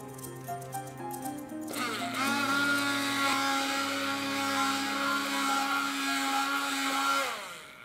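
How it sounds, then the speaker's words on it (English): A hand blender whirs on, purees a gin fruit coulis in a kitchen, and holds a steady motor whine for several seconds before spinning down. "I'm going to use a hand blender."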